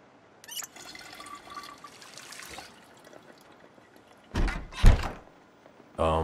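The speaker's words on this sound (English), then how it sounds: "let's go ahead and wash that bandage" Bandage being washed with water in the video game Project Zomboid: a faint, muffled watery rustle, then two louder sloshing splashes toward the end, with no talk.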